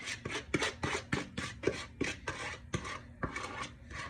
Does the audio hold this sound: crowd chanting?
no